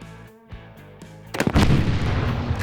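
Loud gunfire from a Yugoslavian rifle cracks out at exploding targets outdoors, a sharp blast followed by a dense rumbling, reverberating burst that rolls on; a steady tonal drone runs beneath before the shot.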